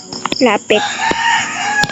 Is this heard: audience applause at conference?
no